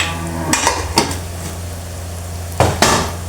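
Pumpkin curry seasoned with turmeric being stirred in a pot: a few close, sharp metal clinks and scrapes of a spoon against the pot, spaced irregularly over a low steady background hum, with no talking.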